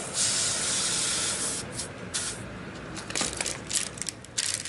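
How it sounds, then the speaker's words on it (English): An air compressor inflating an electric bicycle tire to low pressure gives a loud, steady hiss of rushing air that eases off partway through, followed by short intermittent bursts of air near the end. "So I'm going to turn my compressor on. I want to go for about 3 psi."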